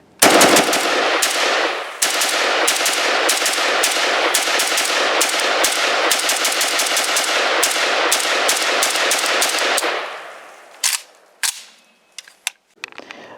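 Rapid gunfire from a Polish FB Radom Archer rifle: loud sharp shots in quick strings for about ten seconds, followed by a few scattered shots and quiet.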